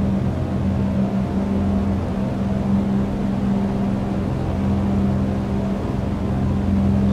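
An aircraft engine is throttled up smoothly for takeoff, producing a steady, loud, droning hum with a strong low tone that holds constant throughout, with no talk.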